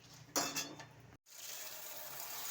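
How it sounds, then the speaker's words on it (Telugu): Fifty grams of dry red chillies roast in a pan for a curry-leaf powder, giving a soft steady sizzle with a few sharp utensil clinks and scrapes near the start, heard close and quiet. "ఎండి మిరపకాయలు యాభై గ్రాములు దోరగా మా వేపుకోవాలి"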